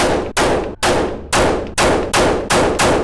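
Glock 48 pistol fired outdoors in a rapid string of eight loud close shots, each a sharp crack with a short decaying tail, spaced roughly evenly about half a second apart.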